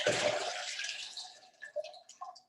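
Soak water drains from a sprouting jar in a splashy, gushing pour that tapers into scattered drips and trickles over a couple of seconds, close and fairly quiet.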